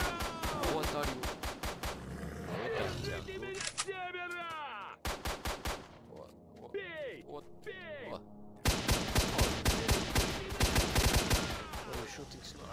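Video game gunfire in S.T.A.L.K.E.R., rapid automatic bursts and single shots at a Snork, with creature shrieks between volleys and a voice talking throughout.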